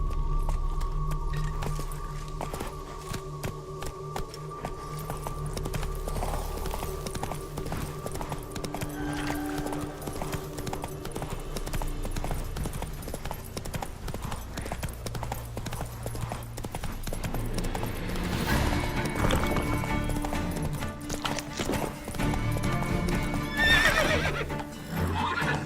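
A horse in The Witcher 3 trots and gallops with steady rhythmic hoofbeats, neighing and whinnying along the way, the hooves growing louder and busier toward the end.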